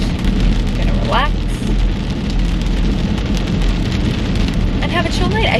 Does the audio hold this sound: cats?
no